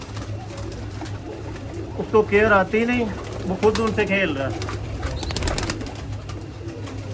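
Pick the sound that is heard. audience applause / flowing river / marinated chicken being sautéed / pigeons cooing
pigeons cooing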